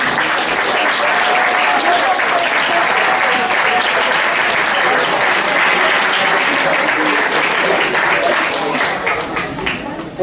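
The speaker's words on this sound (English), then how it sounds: "Good round of applause." A theatre audience at a Sinbad the Sailor pantomime gives a ten-year-old boy a round of applause as he comes up on stage: dense, loud, sustained clapping from a large crowd for about ten seconds.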